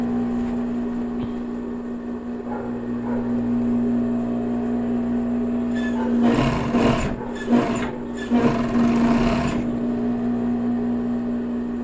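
A sewing machine runs along a legging waistband, stitching near the side seam and size label, in a steady close whir with two louder bursts of faster stitching partway through.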